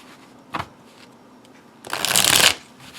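A Lo Scarabeo tarot deck is shuffled by hand, a brief riffle of cards followed by a longer, louder, close flutter of shuffling cards, with no talk.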